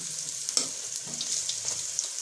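Pakoras for a dhaba-style Punjabi curry frying in hot oil in a pan after being flipped, a steady soft sizzle with a few small pops and clinks, no voices.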